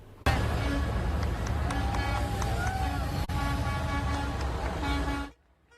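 Car horns honk in short toots over a steady roar of crowd and street noise in Daytona Beach as a statue passes by, with cheering voices mixed in throughout.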